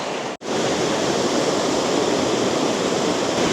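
A waterfall in Canada's rainforest roars with a steady, dense broadband rush, loud and close, after a split-second dropout at the start, with no voices.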